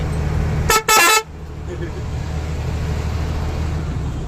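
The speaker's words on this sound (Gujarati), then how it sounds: "જરાક પાછળ ખટારો આવ્યો. હા ખટારો જાય." A truck passes on the highway between Jamnagar and Vadodara: a short, loud horn blast, then a steady rumble of road traffic.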